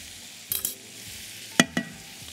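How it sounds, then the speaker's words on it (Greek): Noodles stir-fried with vegetables in a pan for a ginger and soy dish, heard as two short bursts of scraping and clattering stirring over a faint, steady sizzle, with no talking. "Να πάρουν και λίγο χρώμα τώρα να τσιγαριστούν μαζί με τα λαχανικά μου."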